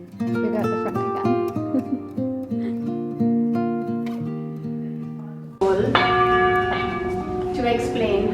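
Bells ring out in a large open studio during a sound healing session, with overlapping sustained tones struck one after another, then a fuller, brighter burst of ringing near the end.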